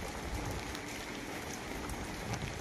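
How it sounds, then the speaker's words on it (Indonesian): Steady rain falls over a countryside village, a dense, even hiss of drops pattering on surfaces with no breaks, moderately quiet and without voices. "kita nikmati suasana pedesaan di suasana hujan"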